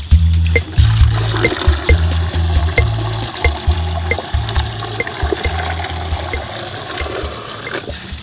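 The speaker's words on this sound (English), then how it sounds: "The next step is to rinse all of the industrial products off of the PVC." Water gushing and splashing while rinsing industrial residue off PVC pipe, a loud, close, continuous rush that breaks into repeated surges and trickles as the flow is moved over the pipe, with no voices.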